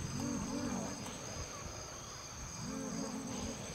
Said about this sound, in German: Ja, jetzt haben wir die mutierten Zirpen.